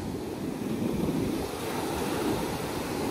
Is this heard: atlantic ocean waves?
yes